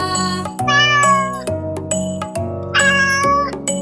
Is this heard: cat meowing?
yes